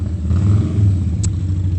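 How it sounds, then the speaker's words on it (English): A loud motor rumbles steadily nearby on the street, a low continuous engine drone with a brief high clink partway through. "Just a loud motorcycle."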